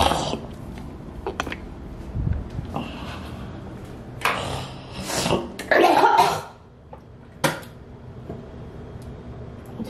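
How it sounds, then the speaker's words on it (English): A person sick with a bad cold coughing and clearing the throat at close range, a few harsh bursts and wet hacking spaced out over quieter background. "I just coughed up some cold and it was disgusting."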